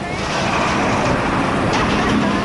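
Cars passing along a roadway in the Orosi Valley of Cartago, Costa Rica, a steady broadband rush of traffic throughout with no clear gaps, fairly loud and close.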